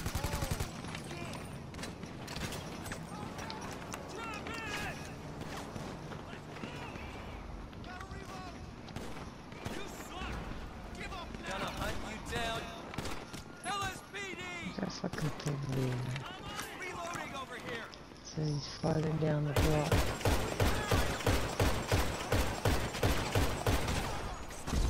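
Gunfire in a chaotic GTA Online lobby: dense, rapid bursts of shots crackle throughout, with heavy sustained firing building near the end, under excited voices of players talking.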